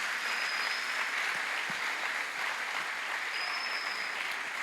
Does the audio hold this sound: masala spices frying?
no